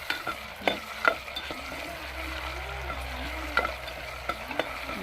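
Tomato and chili sizzle and fry in a pan while a spoon stirs them, scraping the metal in several sharp, irregular strokes over a steady, moderately loud frying hiss.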